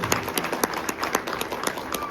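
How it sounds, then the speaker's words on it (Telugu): Audience clapping at a live Telugu Harikatha storytelling performance on Annamayya, a steady patter of many hands with sharp repeated peaks, moderately loud and sustained throughout. "ఇప్పుడు కొట్టండి చప్పట్లు"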